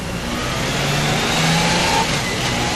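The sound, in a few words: Honda Gold Wing motorcycle accelerating to 40 km/h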